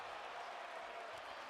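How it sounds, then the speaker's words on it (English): Dense, steady crowd noise like a roaring arena audience at a wrestling event cheering and clapping, loud and continuous for the whole short stretch. "them crowd noises are getting really loud"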